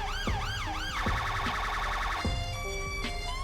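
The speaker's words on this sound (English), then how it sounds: "So using a traditional Met siren." A traditional London Met police siren from a GTA 5 police mod, loud and close, starting with rapid wailing sweeps and then switching to a steady two-tone pattern, with sharp clicks between changes.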